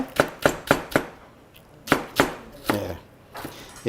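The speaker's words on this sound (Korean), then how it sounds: "대파는 어슷 썰기로 이렇게 썰어 주시고요" A knife chops diagonally through green onion (daepa) on a board, a quick run of four crisp cuts, then a pause and a few more spaced strikes, close and clear.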